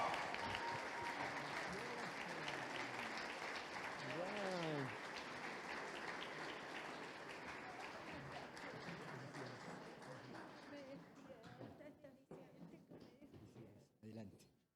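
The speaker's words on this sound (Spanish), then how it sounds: "Los recibimos con un aplauso, con mucha alegría." A crowd applauds steadily and loudly to welcome a family, the clapping fading out toward the end while a voice speaks over it.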